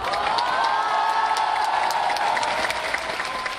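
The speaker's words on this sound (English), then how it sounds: "But the crowd gets bigger." A large crowd of protesters in central Hong Kong, a dense continuous roar of many voices with clapping and cheering, loud and steady throughout.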